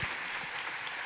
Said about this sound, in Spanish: Les damos un aplauso a estos moderadores para agradecerles su presencia aquí.